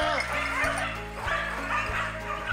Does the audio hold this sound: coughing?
no